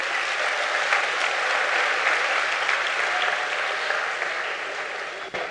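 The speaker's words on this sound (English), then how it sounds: "can we have a small round of applause for all the speakers before me?" An audience at a business session on entrepreneurship gives a loud, sustained round of applause for the speakers, dense clapping that holds steady before easing slightly at the end.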